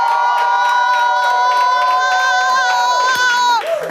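An audience loudly cheers and whoops to welcome a musician onto a show, a sustained bright tone ringing over the crowd until it cuts off near the end.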